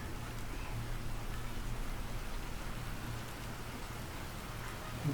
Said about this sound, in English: this rain is absolutely beautiful